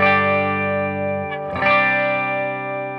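Sustained electric guitar tone from the bridge humbucker through overdrive and EQ pedals, thick with distortion and chorus-like effects, a chord held and then restruck midway, ringing out with reverb.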